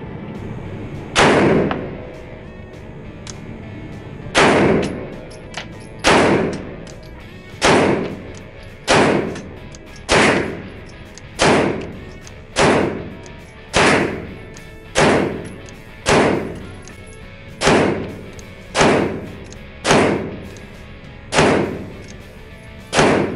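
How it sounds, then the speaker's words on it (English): A Canik TP9 SFX pistol fires a long string of loud, sharp shots outdoors, about sixteen reports at a steady pace of roughly one per second after an opening gap. "We'll shoot this first. Get this loaded up, we'll go to town."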